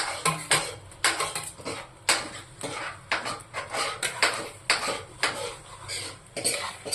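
Finely ground masala sautéed in a little extra oil in a pan, heard as repeated close metallic scrapes and clanks of a spoon against the pan in an irregular rhythm, with a faint oily sizzle underneath.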